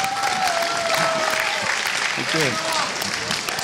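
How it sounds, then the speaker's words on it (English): Loud, sustained clapping from a conference crowd at a pinball presentation fills the room, steady throughout, with a faint tonal whistle running underneath. "let's give a round of applause to guys from Pinball Spare Parts"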